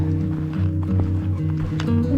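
Horses met on a hillside path during a long walk, with hooves clip-clopping in a steady, close rhythm over a constant low rumble of wind or movement.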